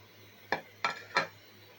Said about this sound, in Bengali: মাছ দিয়ে একটু নেড়ে চেড়ে দিচ্ছি